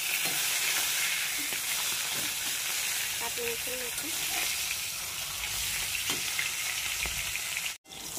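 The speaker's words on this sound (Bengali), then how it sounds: "মাথা একটু ভেজে নিই" A fish head fries in hot, lightly salted oil, giving a steady crackling sizzle that fills the whole stretch, with a faint voice briefly in the background and a sudden short dropout near the end.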